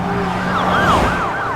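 Police car sirens wail loud and close, rising and falling in overlapping sweeps as several cars pass near a town after a prison escape.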